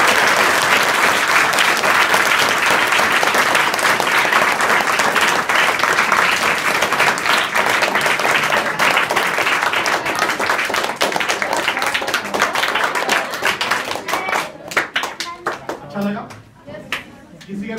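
Dense, sustained applause from a large group of children at a school, clapping steadily for many seconds before thinning out into scattered claps at the end.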